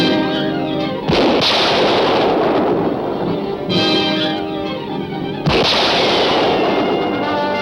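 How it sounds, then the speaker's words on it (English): Loud gunfire in a 1940s cliffhanger serial shootout: repeated sharp shots crack out amid a dense, roaring battle din, with heavy reports at intervals over a continuous rumbling background. "Keep firing."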